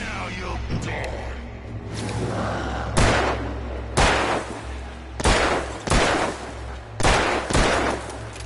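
Gunshots in the horror game Alan Wake ring out as sharp, loud single blasts roughly once per second, about six or seven in a row, each with a short ringing tail over a low ambient drone.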